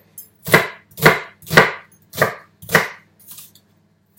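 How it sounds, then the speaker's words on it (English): A big sharp knife chops through onion on a board in five or six evenly spaced, crisp thuds, close and clear, the last ones lighter. "So I'm just chopping up my onion."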